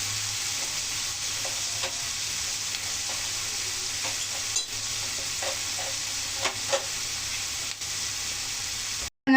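Chicken fries in a pan with a steady, close hiss of hot oil, broken by occasional clicks of stirring, until the sound cuts off abruptly at the end.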